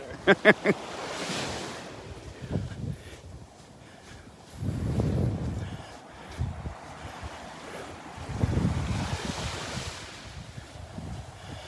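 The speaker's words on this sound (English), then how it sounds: "Nice little breeze." A breeze gusts across Delnor-Wiggins beach on a morning walk, swelling in soft rushing bursts of wind against the microphone with faint surf beneath.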